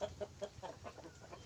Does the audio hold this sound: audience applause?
no